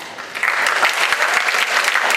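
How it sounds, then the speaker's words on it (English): A theatre audience gives a short, full round of applause for actors, with dense, even clapping that swells slightly after a quieter start. "Please give them a big clap."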